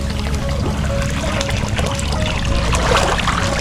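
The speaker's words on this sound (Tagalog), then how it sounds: "Continuous flowing po itong gripo." An outdoor water tap left running pours continuously, giving a steady splashing, trickling rush that stays loud and even throughout, with no voices.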